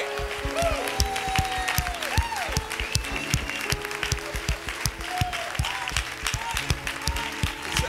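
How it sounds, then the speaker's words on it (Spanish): Congregation in a church claps in sharp, rhythmic unison beats, loud and close, with tonal voices and music-like sounds woven through the crowd noise. "Si ese aplauso fue para el Señor, yo creo que podemos hacerlo mucho mejor."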